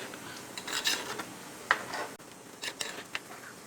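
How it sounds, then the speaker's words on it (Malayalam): Mango curry being stirred in a pot, Angamaly style, a ladle scraping and rubbing against the pot in a few short, quiet strokes close by, with soft clinks between. "ഇപ്പം നമ്മുടെ കറി തിളച്ചിട്ടുണ്ട് നമുക്കൊന്ന് പതുക്കെ ഒന്ന് ഇളക്കിയിടാം"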